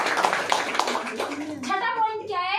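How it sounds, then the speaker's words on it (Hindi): An audience at a motivational talk claps for about a second and a half, a brief burst of hand claps that gives way to a speaking voice. "आप तालियां बजा लीजिए"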